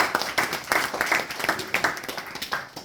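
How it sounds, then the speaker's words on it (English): A small audience claps together in a brief round of uneven, close applause, individual claps standing out. "Please give a round of applause for that."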